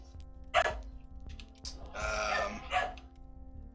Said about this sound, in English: more dog squeaking, apologies in advance